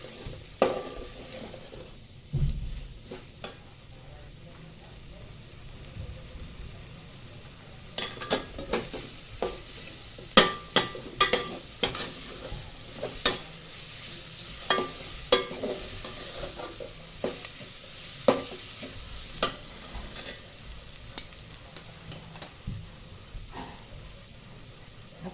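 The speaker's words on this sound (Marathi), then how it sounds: "आता हे आपण मसाले परतवून घेणार आहे." Spices for masale bhaat are stir-fried in a pan with a steady sizzle, and a spatula scrapes and clicks against the metal in irregular taps throughout.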